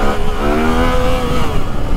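A three-cylinder motorcycle engine pulls hard close up without a quickshifter, its revving tone rising and falling smoothly in a loud, continuous drone with no voices over it.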